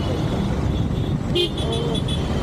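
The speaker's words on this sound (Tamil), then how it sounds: "ஓ எவ்வளோ டிராஃபிக்டா." Busy street traffic on a bike ride through Coimbatore between Saibaba Colony and RS Puram, with engines rumbling nearby under constant wind noise and a car horn tooting in a quick series of short beeps midway.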